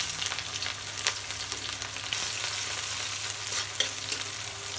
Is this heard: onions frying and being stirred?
yes